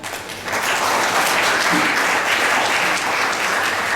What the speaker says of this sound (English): Please, a big round of applause for them.